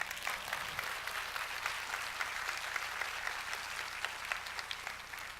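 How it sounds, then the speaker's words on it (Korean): A live audience at a talk-show stage event applauds steadily for about five seconds, a dense, even wash of clapping with no talking over it. "박수 한번 주실래요?"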